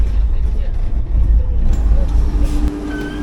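A Humsafar Express passes on the opposite line near Arakkonam, heard from inside a moving AC superfast train as a heavy low rumble with rushing noise that shifts near the end.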